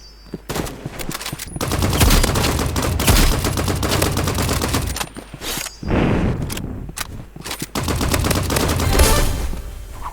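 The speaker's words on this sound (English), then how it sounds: "Everyone should have the energy pistols." Energy pistols firing in a video game, rapid loud shots in dense repeated bursts with short gaps, close and continuous across the whole stretch.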